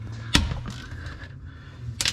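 A wrench cracks loose a tight 10mm transmission drain plug under a vehicle with a sharp metallic snap, followed by scraping tool movement and another sharp clank near the end.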